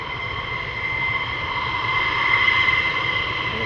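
Fighter jet departing at RAF Lakenheath, a steady loud roar with a hissing whine that swells slightly toward the end and holds without a break, no voices.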